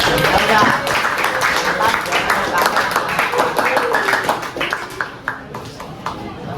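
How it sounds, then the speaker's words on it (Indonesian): A class of students clapping their hands together in a classroom, dense overlapping applause that stays lively and then thins into scattered claps at the end. "Kita tepuk tangan untuk kita semua"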